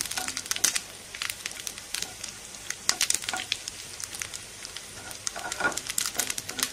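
Ingredients for jackfruit payasam sauté in a pan with a soft, uneven crackle and spitting pops, fairly quiet and close, with short bursts of stirring noise.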